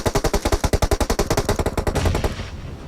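Rapid automatic gunfire in PUBG Mobile, a fast, steady burst of loud, evenly spaced shots lasting about two seconds before trailing off into a ringing tail.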